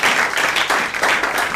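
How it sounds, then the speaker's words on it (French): A church congregation claps together in steady, dense applause, a continuous loud patter of many hands with a slightly uneven rhythm. "Allons-y, applaudissez."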